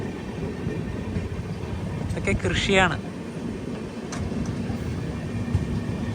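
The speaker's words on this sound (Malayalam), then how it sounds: "റൂർക്കി റെയിൽവേ സ്റ്റേഷനിലേക്ക് ഇതാ നമ്മുടെ ട്രെയിൻ എത്തിക്കൊണ്ടിരിക്കുകയാണ്." An express passenger train rolls toward Roorkee railway station, a steady loud rumble of wheels and carriage noise heard from on board, with someone speaking briefly over it partway through.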